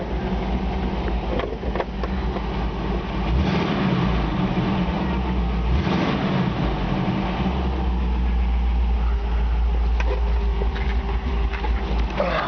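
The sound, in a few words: 1954 Ford Customline engine running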